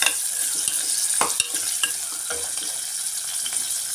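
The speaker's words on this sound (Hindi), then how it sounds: "प्याज को थोड़ा लाल होने तक भून लेंगे।" Onions browning in a pan with cumin, cloves, bay leaf and cardamom for mutton sherwa give a constant close sizzle, punctuated by several spatula taps and scrapes, with no speech.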